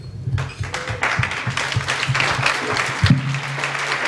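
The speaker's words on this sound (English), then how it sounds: "ladies and gentlemen, have a nice round of applause for Jeff" Wedding guests give a round of applause at a reception, many hands clapping loudly and close by, with a little crowd noise mixed in.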